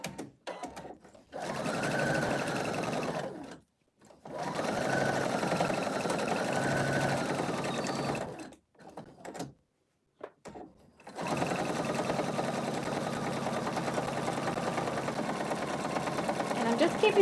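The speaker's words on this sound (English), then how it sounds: "Now I am going to do a little reverse stitch as I get going." Sewing machine stitching a fabric stocking ornament, running in several bursts of steady mechanical whirring separated by brief pauses, close and fairly loud, with speech over parts of it.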